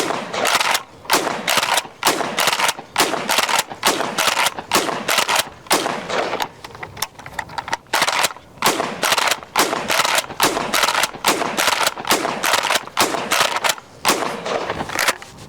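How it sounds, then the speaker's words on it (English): Rapid, loud shots from a Smith & Wesson M&P 12 12-gauge compact defense shotgun, fired in quick bursts of sharp reports with brief pauses between strings, close to the listener with no talking. "So let's see how it shoots right now, Aaron."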